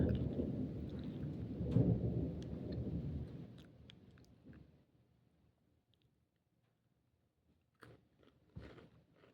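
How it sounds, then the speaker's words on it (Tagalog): Thunder during an afternoon rainstorm: a loud, rolling low rumble that fades over about four seconds into near silence, with a few sharp close clicks near the end. "Lakas ng kulog."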